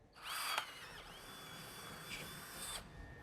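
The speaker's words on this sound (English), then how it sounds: "Now I'm going to drill a hole" A power drill spins up and bores steadily through MDF, its whine rising and falling over a few seconds before spinning down.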